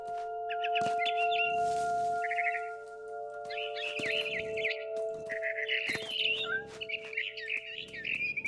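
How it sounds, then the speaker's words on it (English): A barn swallow in the video game What Remains of Edith Finch chirps in quick, bright bursts over a steady electronic hum, with soft thuds and rustles between the calls. "Then I heard chirping outside my window. It was a barn swallow going back to her nest."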